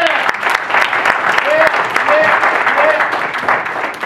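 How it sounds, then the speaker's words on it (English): An audience at a youth achievers ceremony breaks into steady, sustained clapping, fairly close and full, continuing without break across the whole stretch. "Everybody give them a round of applause."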